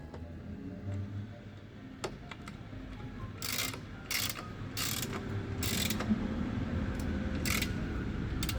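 A ratchet clicking in short bursts while tightening a bolt on a Jaguar XJ6 exhaust manifold, with metallic clicks and quick ratcheting runs over a low background rumble and no talking.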